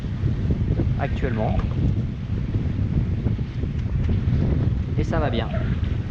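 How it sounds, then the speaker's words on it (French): Strong wind buffets the microphone aboard a sailboat in a gust, a loud steady roar through the whole stretch, with someone speaking in French over it in two short bursts. "on a une bonne accélération de vent"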